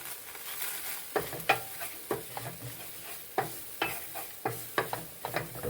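Shallots fry in bacon sediments in a pan, a soft, steady sizzle broken by repeated sharp scraping strokes of stirring in an uneven rhythm.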